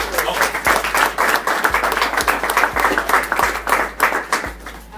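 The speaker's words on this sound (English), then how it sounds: "I think you deserve another round of applause." Applause from a school audience at a high school assembly, a dense wash of clapping that stays steady and fairly loud across the whole stretch, with low thumps and some voices mixed in beneath it.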